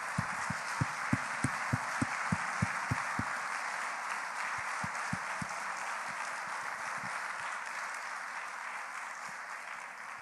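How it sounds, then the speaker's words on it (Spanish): Church congregation clapping, starting with a quick run of sharp individual claps, then a softer spread of scattered applause under a low room hum. "Démosle un aplauso a ese Jesucristo hermoso."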